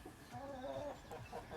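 A backyard chicken near a garden strawberry patch gives a brief, soft clucking call, faint and close, with no talk over it.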